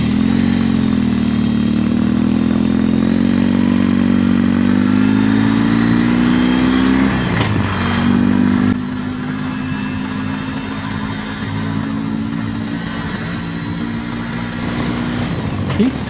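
A BMW R18 Roctane motorcycle's big engine drones loud and close while riding, rising to a revving climb and then falling back to a steady lower hum under wind rush.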